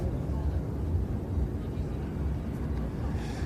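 An aircraft engine roars steadily overhead during an air show flypast, a dense, constant drone with no surges, fairly loud and unbroken.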